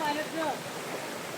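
Water rushing steadily near a hidden forest waterfall, where a river runs thigh-deep; a constant broadband wash fills the short stretch, fairly close, with faint voice-like tones in the first half second.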